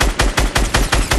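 Rapid automatic gunfire in Fortnite, six or seven loud, evenly spaced shots in a steady burst, close and punchy.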